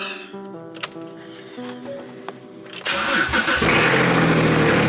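Porsche Cayman GT4 under rebuild starting up: a starter whine and a few clicks for about three seconds, then the engine catches with a loud, steady roar that settles into a close, full idle.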